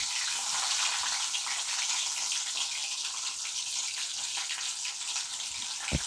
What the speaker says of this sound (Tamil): அது லைட்டாக எண்ணெயில் போட்டோன்னே அது பொரிஞ்சிடும்.